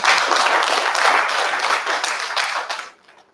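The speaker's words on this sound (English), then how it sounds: "Let's have another round of applause for our chairman." A conference audience claps for a chairman, a full round of applause that holds steady and then tapers off quickly into near silence.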